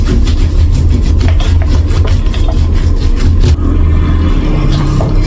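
Clothes are scrubbed against the ribbed washboard grooves of a Samsung top loader washing machine, loud rhythmic rubbing and scraping strokes repeating close by, with no talk.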